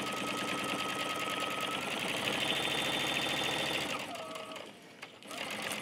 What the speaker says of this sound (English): there are many layers of flannel that you're sewing here